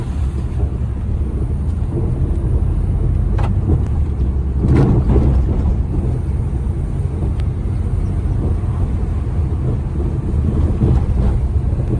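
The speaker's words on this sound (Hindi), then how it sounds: "आपको इसकी आवाज़ सुनाता हूँ, सस्पेंशनों की कैसी आवाज़ आती है इसमें।" Steady low rumble of a Wagon R on the move, with occasional knocks and thumps from the faulty suspension over bumps and wind buffeting throughout.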